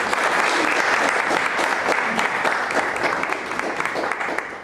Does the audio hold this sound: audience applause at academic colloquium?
yes